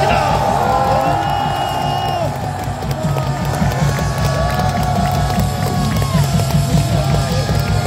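A large outdoor crowd at a Gwanghwamun national rally gives a standing ovation, with clapping, cheering and scattered shouts that are loud and continuous, while a voice carries over the noise.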